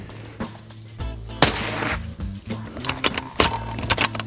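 Shotguns fired at an outdoor shooting range, sharp loud bangs spaced out, with clicks and metallic handling of the guns between shots and no talking.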